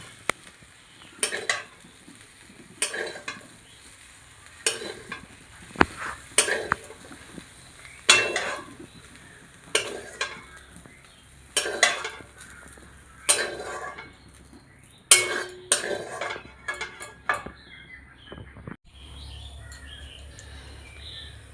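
Fried soybean chunks lifted out of a pan in a home kitchen, heard as a steady run of short metallic scrapes and clinks of a utensil against the pan, repeating every second or so, close and fairly loud.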